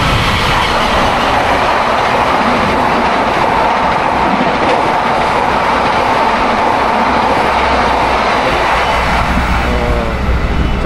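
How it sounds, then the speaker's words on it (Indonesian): A Sancaka passenger train on the Surabaya–Yogyakarta line rushes past close by, a loud sustained roar of wheels and rail clatter that holds steady for about ten seconds with no voices. "Cepat nih keretanya Sancaka."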